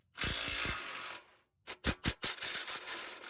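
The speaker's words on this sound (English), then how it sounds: "We're probably gonna have to loosen these bolts on either side because we cinched those up" A ratchet loosens the mounting bolts of a Valley Tech Fabrication modular rear bumper on a Lexus LX470. A long close burst of clicking comes first, then a pause and several short, rapid clicking bursts.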